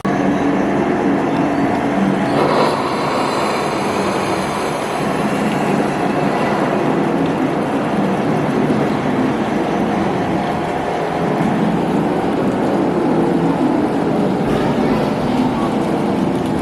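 Loud, continuous rumble and clatter of a moving train, steady throughout with rhythmic rattling and occasional louder jolts.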